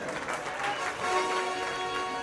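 A community gathering in Surat applauds a GST commissioner as he is welcomed, a dense, sustained wash of clapping from a crowd, loud and even, swelling slightly midway.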